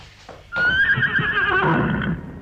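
A horse neighs as a sound effect in a Turkish radio drama of the Köroğlu epic: one loud, close whinny rises and then falls away over about two seconds, preceded by a faint low rumble.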